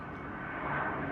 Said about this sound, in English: the plane is just about to come back again